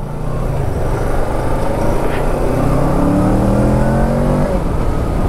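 A Kawasaki Ninja 650 motorcycle engine revving loudly up close, its pitch climbing and holding through repeated throttle blips over a constant, dense engine roar.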